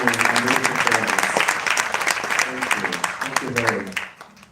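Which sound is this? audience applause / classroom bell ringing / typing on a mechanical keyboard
audience applause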